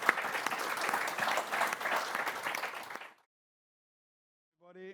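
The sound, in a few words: applause for meeting speakers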